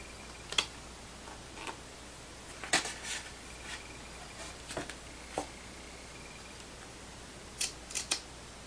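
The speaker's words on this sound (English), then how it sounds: "I'm going to go ahead and cut off the trim." Sharp snips of Tim Holtz Tonic scissors cut through paper trim in scattered bursts, a few isolated clicks then a quick pair near the end, close and fairly quiet.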